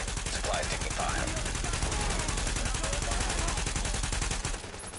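Rapid automatic gunfire in The Division, a dense, fast, unbroken rattle of shots close and loud for several seconds before it cuts off, with voices faintly underneath.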